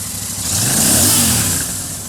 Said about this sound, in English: Revving up to around 85 or 90 dBs.